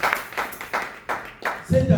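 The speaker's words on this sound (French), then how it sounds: "Applaudissez le Seigneur." A church congregation at the Lyon Tabernacle claps in time, five sharp rhythmic hand claps spaced evenly about a third of a second apart, followed by a burst of fuller sound at the end.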